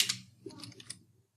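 Several quick keystrokes on a computer keyboard, close and clear, in a short irregular burst with brief pauses.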